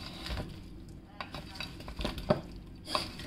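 Paneer being stirred into a masala of capsicum, onion and tomato in a pan, giving a few soft scraping and clinking strokes of a spoon against the metal over a low background, with no talk.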